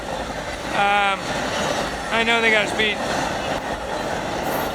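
A train rolls past near the Satsuma Bridge while slowing down, with a steady rail rumble throughout. Two strong harmonic horn-like tones rise over it, and someone talks over the passing cars.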